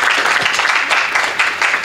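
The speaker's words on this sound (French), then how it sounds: "Manifestons cela par des acclamations." A church congregation at a youth day service claps and cheers loudly together in a steady, dense burst of applause.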